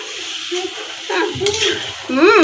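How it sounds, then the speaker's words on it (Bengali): Curry is stir-fried in a pan after a little gravy is added, with a spoon scraping and sizzling close by while someone talks over it. "এখন আমি কষিয়ে নিচ্ছি ভালো করে"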